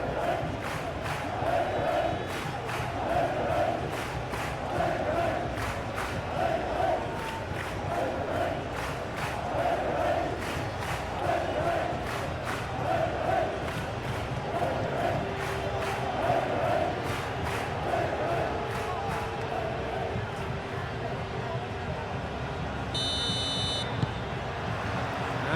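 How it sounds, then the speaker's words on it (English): A capacity stadium crowd at an Athletic Bilbao vs Barcelona La Liga 2025/26 match gives a steady, dense roar that holds throughout. Faint rhythmic pulses run through it, and a brief higher tone cuts in near the end. "A capacity crowd here."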